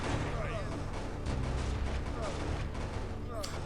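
Cannon fire booms through a colonial-era strategy war game as a fort battle rages, dense low rumbling blasts and crackling volleys overlapping with someone talking over the action.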